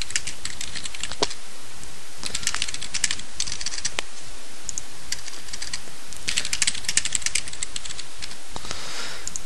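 Steady clatter of typing on a computer keyboard, bursts of quick keystrokes close up with short pauses between runs, no voices.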